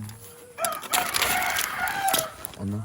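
A rooster crows nearby in one drawn-out, strained call, with clucks and rustling around it and a short low sound at the end.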